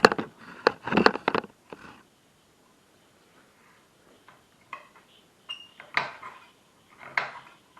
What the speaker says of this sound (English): we roughly chop with a nice big sharp knife while watching our fingers, like this